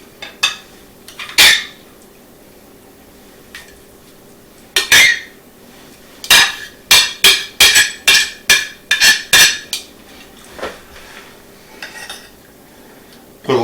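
Metal tongs clatter and clink against a plate and pan while serving tender corned beef, a run of sharp, close metallic taps coming in quick irregular bursts, several in rapid succession mid-way, with quiet gaps between.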